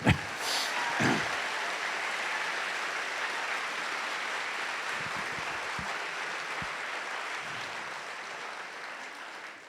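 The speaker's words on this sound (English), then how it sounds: "Now you can clap, it's okay." Audience applause at a Palestine solidarity event bursts in loudly with a few sharp claps, then settles into a long, steady patter that slowly fades, with no talking.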